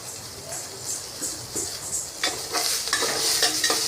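Onions and mint sauté in a pan for tomato biryani, giving a soft, close sizzle broken by a series of brisk stirring scrapes that grow busier toward the end, with no talk.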